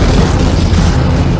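A sudden, powerful burst of sand and water inside a deep tunnel excavation: a loud, heavy, rumbling roar that fills the space and holds steady, with no talking.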